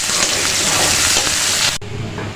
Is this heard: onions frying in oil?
yes